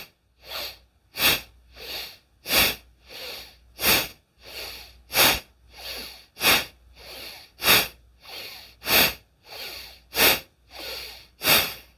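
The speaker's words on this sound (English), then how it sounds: "Let's begin with 10 breaths through the left nostril. Inhale deeply to prepare. Exhale forcefully." Forceful bhastrika bellows breathing through the left nostril, a steady train of about sixteen sharp, close breath bursts in an even, rapid rhythm with brief gaps between them.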